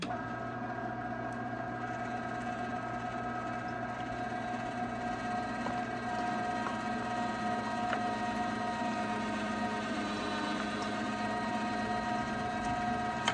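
An electric meat grinder runs steadily while grinding beef fat for tallow, giving a constant motor hum with strong tonal whine, close and even throughout with no talking.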